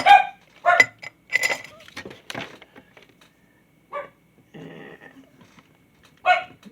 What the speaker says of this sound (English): Pardon the dog noise in the back